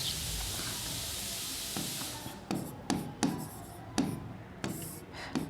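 Chalk or marker scratching notes onto a classroom board, a series of short, distinct strokes that follow a stretch of steady hiss, close and fairly clear, with no talking.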